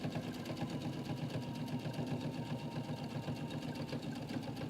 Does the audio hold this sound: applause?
no